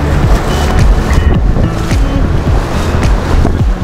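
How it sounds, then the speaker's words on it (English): Rough ocean waves surge in on the rising tide near Fingal Head, a steady loud wash of surf with wind buffeting the microphone throughout. "The tide is coming in, it's getting a bit rough."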